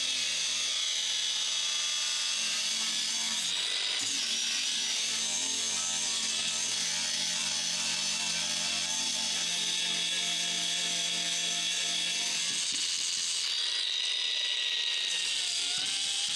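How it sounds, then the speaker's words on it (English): A power tool grinds rust off the body of an old abandoned Coca-Cola truck, a loud, continuous, harsh whirring scrape heard close up with steady intensity and a brief change in tone partway through. "Grinding down the rusty areas."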